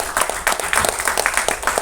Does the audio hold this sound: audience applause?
yes